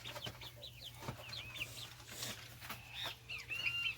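Chickens clucking outdoors near a wood-fired stove and masonry smokehouse, a series of short, faint, chirpy clucks scattered over a steady low hum.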